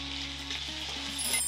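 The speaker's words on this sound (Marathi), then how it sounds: "हा पूर्ण ठेचा घालायचा आणि हा ठेचा छान परतून घ्यायचा" Coarse green chilli and garlic thecha paste frying in oil with cumin and mustard seeds gives a continuous close sizzle, a low steady hum running underneath.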